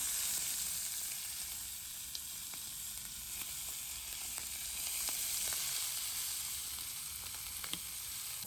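Prawns frying in a pan with a steady close sizzle, while faint clicks and taps come through as the pieces are turned one by one.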